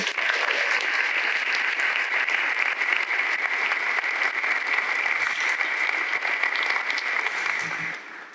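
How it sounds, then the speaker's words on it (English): Sustained, loud applause from a graduation ceremony audience at a school commencement, dense steady clapping filling the whole stretch before tapering slightly at the end. "How about one more round of applause for Abby and Ellie?"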